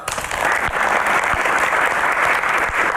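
Audience at a live televised music show clapping loudly and steadily, a dense, even burst of applause with little else behind it.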